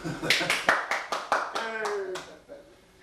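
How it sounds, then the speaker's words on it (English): A handful of hands clap in a small audience after a folk song about the railroad, about eight distinct, fairly close claps in an uneven rhythm that thin out toward the end. "You're supposed to applaud after that."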